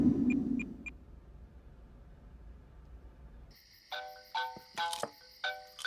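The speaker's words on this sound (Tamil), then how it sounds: "யார் அது இந்த நேரத்துல ஃபோன் பண்றது?" A phone rings in a Tamil psycho-thriller film scene, a bright electronic ringtone arriving after a few quiet seconds and pulsing in repeated bursts, close and fairly loud over a low background hum.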